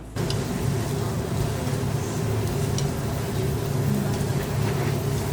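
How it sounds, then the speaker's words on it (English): Steady sizzling and crackling hiss of malai-marinated chicken skewers cooking on a grill, continuous and close, with a low background hum underneath. "we'll let them sizzle"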